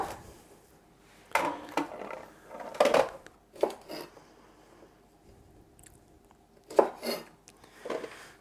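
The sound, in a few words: knife topping and tailing green beans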